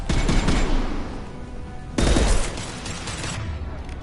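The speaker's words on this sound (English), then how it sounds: "Firing an impact shot." Mass Effect 2 impact shot in combat, loud weapon fire heard as two heavy bursts of overlapping shots about two seconds apart, each decaying into rumbling noise.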